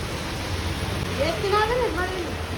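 Heavy rain pours down in a dense, steady hiss over a street where vada pav is sold, with a voice briefly sounding over the downpour.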